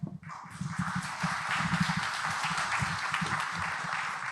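A live audience breaks into dense, sustained applause for a speaker at an autonomous race car event, with the clapping starting abruptly and holding steady for several seconds, with no talk over it.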